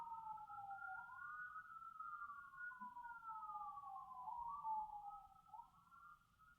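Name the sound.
ambulance siren passing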